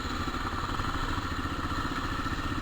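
A motorcycle engine with a faulty gearbox runs steadily up close, a continuous loud mechanical drone laced with rattling clatter and irregular knocks, no voices.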